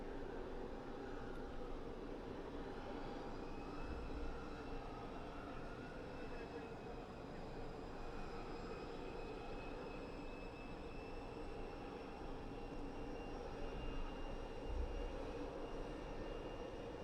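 Eastern Airways airplane at London Southend Airport, heard as a steady, distant engine drone and whine that holds through the whole stretch over a broad wash of outdoor noise.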